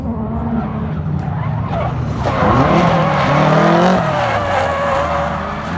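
A modified SR20-powered S15 Silvia on the Thunderhill track skids off into the dirt, with loud, close tire squeal and engine noise that rise in the middle before easing into a rough, scrabbling slide.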